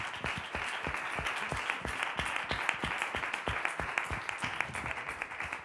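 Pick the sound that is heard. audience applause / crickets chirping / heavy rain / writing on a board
audience applause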